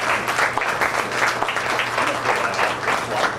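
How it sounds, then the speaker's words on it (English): A crowd at a county fair swine show gives a round of applause, a sustained, even spread of many hands clapping with a faint low hum from the arena beneath it. "Give them a big round of applause"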